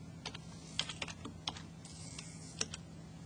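Someone types graph points into an online graphing calculator on a computer keyboard, producing a short, uneven run of light, close key clicks over a quiet background hum.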